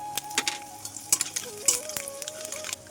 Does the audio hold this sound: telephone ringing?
no